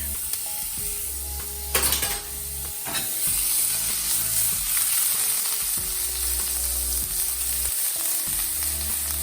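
Garlic sizzles steadily in a hot frying pan, a dense, even crackle running throughout, with a few clinks of a utensil against the pan near the start and no speech.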